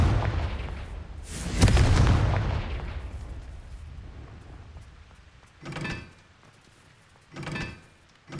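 Confringo fire spell exploding in Hogwarts Legacy, a heavy booming blast with a rushing tail that fades over a few seconds, followed by two shorter whooshing bursts.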